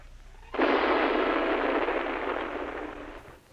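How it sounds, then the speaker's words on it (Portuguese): A hydrogen bomb explosion erupts suddenly as a loud, dense roaring blast that holds steady for about two and a half seconds before fading, set against a faint low rumble with no voices. "Isso é uma explosão de uma bomba de hidrogênio"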